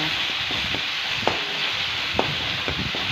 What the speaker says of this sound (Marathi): भरपूर साऱ्या मिरच्या लसूण आणि कोथंबिरीचं हे वाटण नाही तर हे पण एकदम छान परतून घ्यायचं